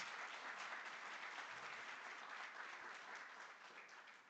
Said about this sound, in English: I would ask for another round of applause to the Honorable Minister,